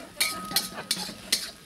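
Black rice stuffing is stir-fried in a wok, with four quick scraping strokes of the spatula against the metal over a low sizzle, close and evenly spaced.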